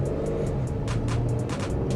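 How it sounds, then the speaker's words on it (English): A Toyota Kluger V6 engine runs at a steady, deep rumbling hum with a smooth low drone, heard close and continuous throughout. "rather nice sounding engine if it comes to that"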